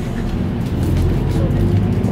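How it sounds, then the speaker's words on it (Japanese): Heavy road traffic outdoors on a street, a loud, steady low rumble of passing cars that fills the whole clip without letting up. "車の音うるさいし"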